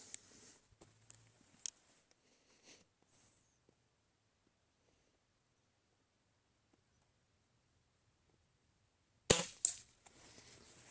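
After a long near-silence broken by a few light clicks and handling noises, a single sharp gunshot from a Shanghai B1-1 air rifle cracks out, followed by brief echoing rattles.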